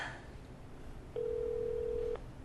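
A single steady electronic ringback tone sounds for about a second over quiet background hum, then stops, with no answer.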